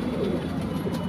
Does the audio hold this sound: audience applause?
no